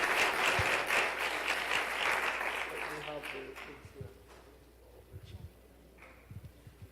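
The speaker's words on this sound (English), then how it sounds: "please, a round of applause as they come up to get their kids." A church congregation at a Graduation Sunday service applauds for graduates, loud dense clapping with voices mixed in that fades out after a few seconds, leaving scattered thumps and quiet room noise.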